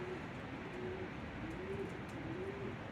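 Kelebek pigeons coo softly in a series of low, repeated calls, each a short rising-falling tone, heard fairly close against a steady background hiss.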